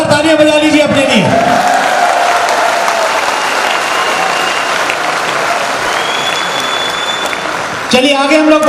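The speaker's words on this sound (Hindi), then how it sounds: "एक बार जोरदार तालियां बजा लीजिए अपने लिए" A training-session audience claps loudly and steadily for several seconds in a dense, continuous wave of applause. A voice speaks briefly at the start and again as the clapping ends.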